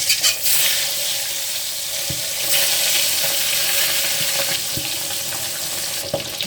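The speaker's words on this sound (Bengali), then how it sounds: "এর জন্য আগে ডিমগুলো লবণ হলুদ দিয়ে ভেজে নিব" Duck eggs frying in hot oil with salt and turmeric, a steady close sizzle with occasional crackles and pops, no talking.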